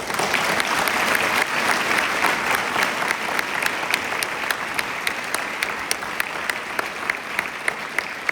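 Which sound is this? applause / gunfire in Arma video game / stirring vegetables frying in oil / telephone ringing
applause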